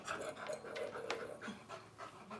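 A 4-month-old puppy of about 15 kilos pants heavily and rapidly up close, a steady run of quick breathy huffs with no talking over it.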